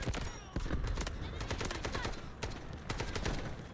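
AKM rifle fire in the Delta Force video game: fast, loud, close repeated shots in short bursts, with brief pauses between strings.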